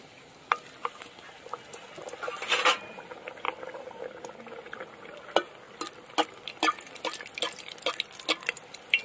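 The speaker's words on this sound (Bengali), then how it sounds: "কড়াইতে দিয়ে দেবো সাদা তেল" Potato puris deep frying in white oil in a wok, with steady bubbling sizzle and sharp crackles and pops scattered throughout, close and fairly loud.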